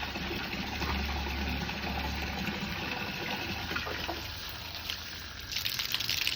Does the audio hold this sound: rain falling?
no